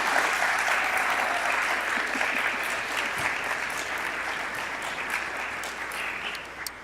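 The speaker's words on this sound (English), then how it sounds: "give a huge round of applause for Chris Hall" An audience at a university poster session gives a round of applause for Chris Hall, a dense, steady clapping that stays fairly even and slowly tapers toward the end, with no speech over it.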